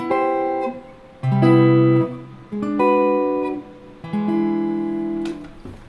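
An electric guitar plays jazz comping chords one after another over a tune, each struck and left to ring for about a second, clean and close.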